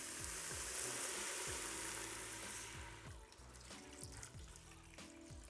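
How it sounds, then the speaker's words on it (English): Red wine poured into the hot pan of a Ninja Foodi to deglaze it after browning lamb shanks hisses into a loud, bright sizzle for about three seconds, then fades to a softer bubbling under music. "we're going to add our red wine to deglaze the pan"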